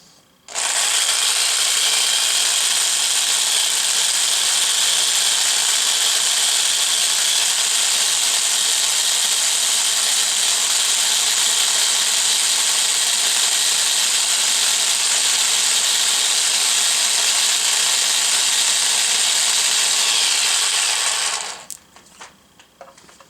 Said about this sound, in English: Grab the old electric drill again.